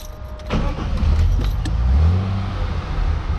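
A 1957 Mercedes-Benz 300SL engine cranks and catches, then settles into a low, steady rumbling idle close by, with a few faint clicks and rattles over it.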